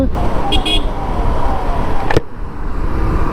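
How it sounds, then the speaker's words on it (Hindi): A car horn gives two short toots on a road in Lakhimpur Kheri, India, over steady engine and road noise, with a sharp knock near the end. "हॉर्न दे रहा हूँ, हट ही नहीं रहे हैं भाई साहब।"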